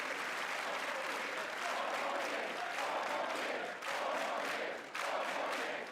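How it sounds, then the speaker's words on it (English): Dense, sustained applause from a large chamber crowd at the State of the Union, a steady roar of clapping with a faint rhythmic pulse and brief dips. "That sort of like pattern clapping is completely rehearsed, by the way."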